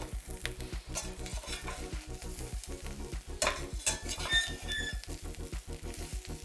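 Tempeh frying and browning in a pan, with a steady loud sizzle and frequent rhythmic scrapes and knocks of stirring, and a few brief high squeaks near the middle.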